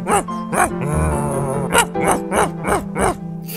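A Minecraft dog barks in a quick run of loud, evenly spaced yelps, with a low growl drawn out between the barks near the start.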